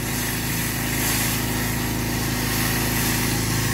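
An engine-driven pressure washer with a rotary surface cleaner works over oily block paving on a driveway, a loud, steady, close motor drone with constant hissing spray.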